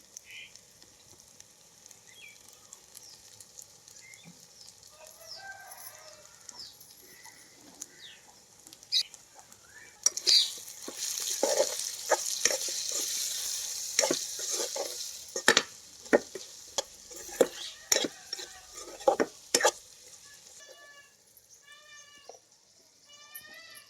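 A spoon stirs homemade coriander powder frying in a pan for tomato rice, with soft sizzling and scraping strokes that turn busier and more rhythmic midway, faint in a quiet kitchen.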